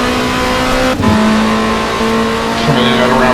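A WTCC touring race car engine in the PC racing game Race 07, loud and close, holding a steady high rev with a quick gear-change dip and rising again.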